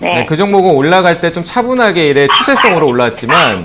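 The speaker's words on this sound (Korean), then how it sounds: "강아지가 좀 시끄럽네요" A dog barks and yips in the background while someone speaks Korean over it continuously during a stock-market TV broadcast.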